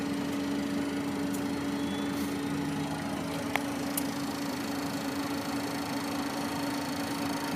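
A Cessna Citation Ultra 560 business jet's engine starts up, a steady, loud droning whine with a constant hum that holds throughout, without voices.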